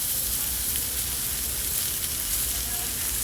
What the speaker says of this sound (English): We're gonna put it bare on this really hot skillet